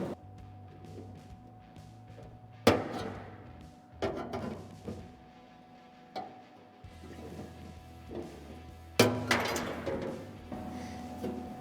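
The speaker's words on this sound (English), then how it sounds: "I'm just gonna use the snips and just snip that last little bit" Tin snips cutting a curved edge of sheet metal while installing a steering column on a 1931 Model A hot rod, several sharp metallic snips and clanks spaced a second or two apart over a low mechanical hum.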